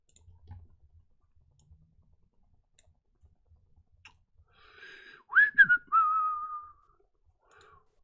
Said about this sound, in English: Oops, sorry for the whistling.